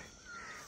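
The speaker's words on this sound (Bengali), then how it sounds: "পাখি ডাকছে" A crow caws once at moderate distance in a quiet mountain village homestay setting near Darjeeling, a short single call.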